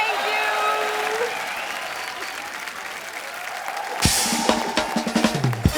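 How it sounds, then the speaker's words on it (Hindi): Enthusiastic studio audience applause on a comedy talk show, starting abruptly and loud as a dense burst of clapping and crowd noise after a stretch of quieter sound, with voices and music mixed in. "जोरदार तालियां सोनाक्षी और शिवानी के लिए"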